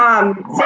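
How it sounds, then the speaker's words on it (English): A pet dog barks in the background during a conversation, a quick yelping bark heard under and around a talking voice. "that's my dog barking in the background."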